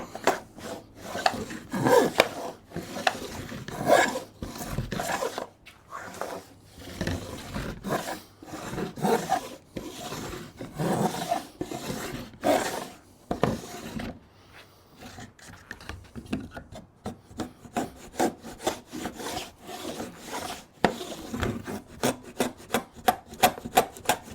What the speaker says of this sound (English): Hear the wood being cut.